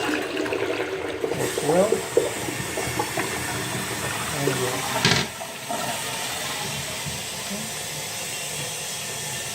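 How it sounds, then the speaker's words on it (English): A toilet flushes in a 2006 Simpson travel trailer with a loud, rushing close-up swirl of water that cuts off abruptly midway and then settles into a steady refilling hiss, while a person speaks briefly. "let's check out the toilet here."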